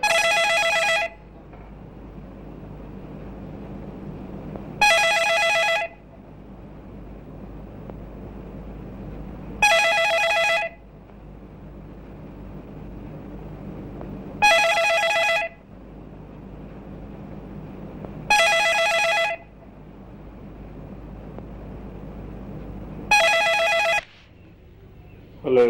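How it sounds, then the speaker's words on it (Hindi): An old-fashioned telephone bell rings in six evenly spaced bursts about five seconds apart, each loud and bright over a quiet indoor hum, with no talk during the rings. "टेलीफोन की घंटी बजती है।"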